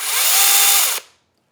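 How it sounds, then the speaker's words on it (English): A DeWalt battery-powered mini handheld chainsaw runs in a loud, high, steady electric whine for about a second, then cuts off abruptly and winds down to silence. "So this is a mini chainsaw. It's a handheld chainsaw."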